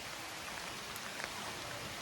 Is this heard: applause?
no